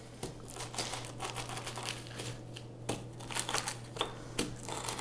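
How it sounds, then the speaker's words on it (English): Roasted, cooled fennel seeds are crushed inside a plastic bag, giving close, irregular crinkling and crunching bursts with sharp clicks over a steady low hum. "I'm going to grind it and put them in a plastic bag"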